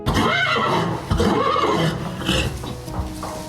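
A breeding stallion at an equestrian sports school gives a loud, drawn-out neigh with rising and falling whinnies, close by and with no talking.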